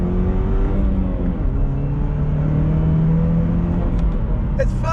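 A manual 2021 Chevrolet Camaro LS engine pulls hard under throttle on a highway on-ramp, a steady loud drone climbing in pitch as it revs, with faint wind and road noise.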